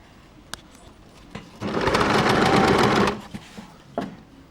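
A sewing machine stitches the neck lining of a baby frock in one steady burst of about a second and a half, close and fairly loud, with a few soft clicks of fabric handling before and after.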